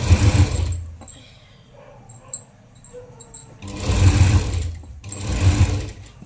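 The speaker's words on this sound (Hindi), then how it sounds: "ये इस तरह से साइड की सिलाई हमको ऐसे लेना है ना।" A sewing machine stitches the side seam of a suit in two loud, steady runs: a short burst at the start, then a longer stretch after a quiet pause with faint rustling.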